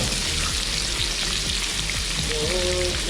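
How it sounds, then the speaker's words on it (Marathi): Onion and tomato sizzle steadily in hot oil in a pan, a dense close frying hiss with occasional stirring scrapes, continuous and fairly loud with no voices. "कांदा आणि टोमॅटो ब्राऊन होईपर्यंत आपण त्याला भाजून घेऊ."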